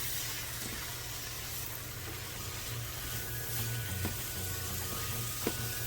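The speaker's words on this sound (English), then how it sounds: "We're just going to start stirring around." Salisbury steak ingredients with spices and garlic being stirred in a pan, a steady wet sizzle and frying hiss with soft scraping of the spoon throughout, close and continuous with no talk.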